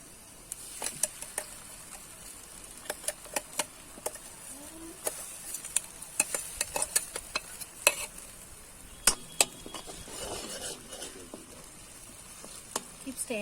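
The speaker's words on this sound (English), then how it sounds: "Golden brown now, so let's add the paste which we have grinded." Ground paste for Bellary-style vagarni mirchi sizzles in hot oil in a pan, with steady frying hiss broken by repeated sharp clinks and scrapes of a spoon stirring against the metal, close and fairly quiet, without talk.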